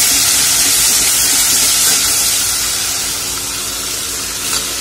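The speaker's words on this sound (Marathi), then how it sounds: "तेल आपलं छान तापलं आहे, तर आपण यामध्ये आलं लसूण पेस्ट घालून घेणार आहोत" Ginger-garlic paste hits hot oil in a pan, giving a loud, close, rushing sizzle that fades slightly toward the end, with no voices.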